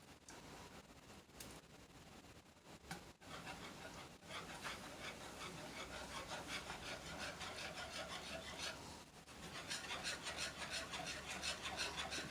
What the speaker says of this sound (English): Keep on whisking.